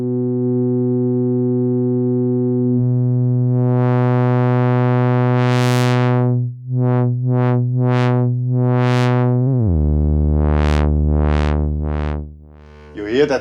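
A Hordijk modular synthesizer sync oscillator runs through a filter, giving a loud buzzy drone whose bright upper partials sweep in repeated rising and falling chirps before the tone drops lower.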